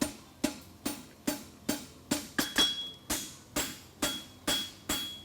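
Blacksmith hammering an aluminum bar horseshoe, about a dozen sharp metallic strikes in an even rhythm with short ringing decays, close and fairly quiet, no talk.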